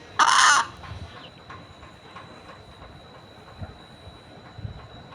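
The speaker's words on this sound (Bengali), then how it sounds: "এটা আমার বাড়িতে লাল পালিত মোরগ" A home-raised red desi rooster gives one short, loud call near the start. Afterward only a quiet room tone remains, with a faint steady whine and a few soft knocks.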